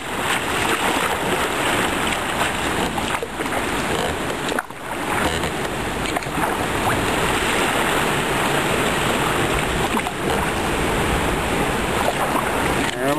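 Choppy river waves slap against a kayak near the water intake under the Peace Bridge in Buffalo, NY, a loud, steady wash of churning water and wind that continues for the whole stretch.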